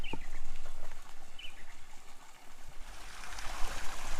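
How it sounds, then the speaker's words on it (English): Water pours from a pipe into a natural hot tub at an outback station, a steady broadband stream and trickle running continuously and fairly close, with faint bird calls in the background. "crack that little plug in down there, and it fills up with water"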